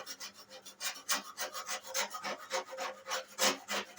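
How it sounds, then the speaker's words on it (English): Putty knife scraping old paint off a box truck door, a series of rough rasping strokes in an irregular rhythm, close and fairly loud, with no talking. "I wish I had a real paint scraper instead of a putty knife, but this will do"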